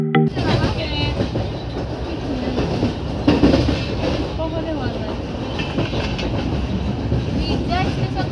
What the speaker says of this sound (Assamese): ট্ৰেইনখন এতিয়া পুৰা জপকৈ তীব্ৰ গতিৰে গৈ আছে পুৰা